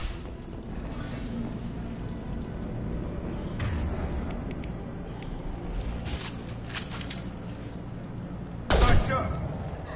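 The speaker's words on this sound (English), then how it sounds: "The Blue Suns and Vorcha shooting anything that moves." Gunfire from Blue Suns mercenaries and Vorcha in the sci-fi shooter Mass Effect 2: scattered shots crackle over a steady battle din, with a loud, sharp burst near the end.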